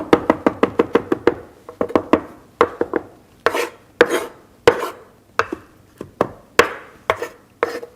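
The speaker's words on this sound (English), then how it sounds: "for this time, we're just going to cut it using a rocking motion" Knife rocking through fresh herbs on a cutting board, a fast run of sharp chops that slows into spaced, crisp strikes, close and clear with no talking.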